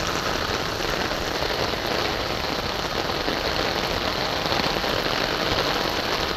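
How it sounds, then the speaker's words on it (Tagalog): Heavy rain pouring down in a dense, continuous roar and hiss, loud and close, steady throughout with no voices. "Lakas talaga ng ulan"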